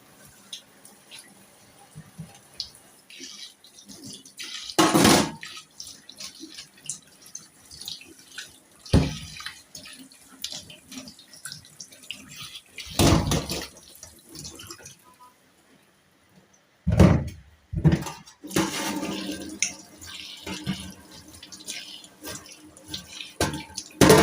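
Tap water runs into a kitchen sink in short, intermittent bursts of splashing and trickling while dirt is rinsed away. Quieter handling and clatter fill the gaps between the louder gushes, and no one speaks.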